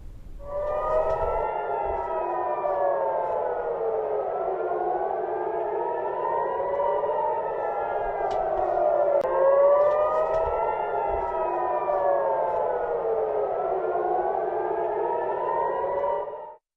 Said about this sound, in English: Sirens were sounded even in the early hours of today in Tel Aviv.